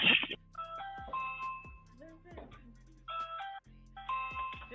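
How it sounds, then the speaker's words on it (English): A doorbell chimes in repeated tonal dings across a few seconds. It rings beside a person's speech in a home doorway, and a recorded voice message follows. "Let me ring the doorbell."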